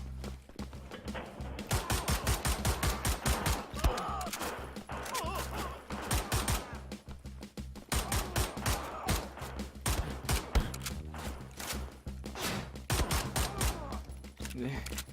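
Rapid gunfire in Wolfenstein The New Order, with bursts of sharp shots in quick clusters throughout, loud and close, while someone talks over the shooting.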